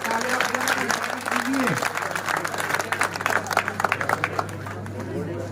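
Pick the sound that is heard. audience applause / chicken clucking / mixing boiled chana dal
audience applause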